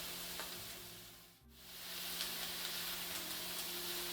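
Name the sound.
bell peppers cooking in a pan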